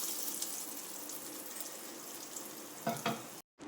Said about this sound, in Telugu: దీంట్లోకి పోపు వేసుకోండి.